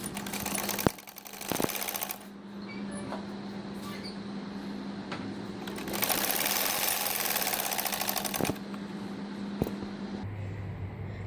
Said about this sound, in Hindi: ये वाली सिलाई करूँगी और इधर से ये वाली सिलाई करूँगी